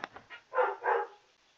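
Pet dogs bark up close, a few quick yips followed by two fuller barks in a row, fairly loud and with no talking over them.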